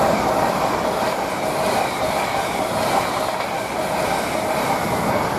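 An LNER class 801 train passing through Doncaster railway station, a loud, steady roar of wheels and rail noise filling the whole stretch with no talking.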